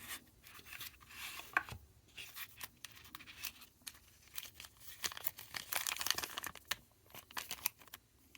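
A plastic bag holding an Allen wrench being opened while unboxing a BaMaTech TP-III, with close crinkling, tearing and rustling that builds in the middle and continues in uneven bursts, no speech.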